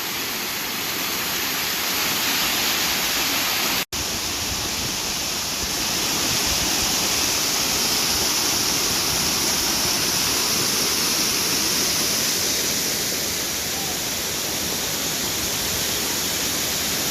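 A waterfall about 25 feet tall at a state park roars as a loud, continuous broadband rush, steady and close, with one brief dropout early on.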